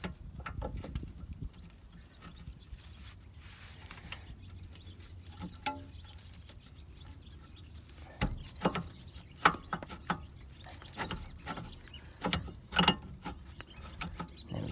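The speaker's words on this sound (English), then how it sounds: "Now, slip that brake pad back into there." Metal brake pad being slid back into the caliper on the rear of an Alfa Romeo Mito, a run of light clicks and scrapes up close, sparse at first and then busier, with no talking.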